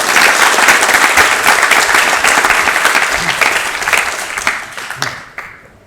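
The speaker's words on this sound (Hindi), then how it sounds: "अब बजाइए, तालियां बजाइए भक्तिविनोद ठाकुर के लिए।" Audience applause at a religious lecture on Bhaktivinoda Thakur, a dense steady wash of many hands clapping that thins out and fades toward the end.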